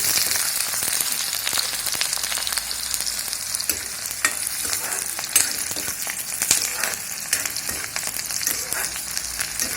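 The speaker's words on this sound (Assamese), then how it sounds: "এতিয়া মই ইয়াত পিঁয়াজখিনি দি দিম তেলত অলপ দেৰি ব্ৰাউন কালাৰ হোৱালৈকে ভাজি ল'ম পিঁয়াজখিনি" Onions frying in refined oil until brown, a loud, dense sizzle and crackle that carries on steadily close to the pan, with no talking over it.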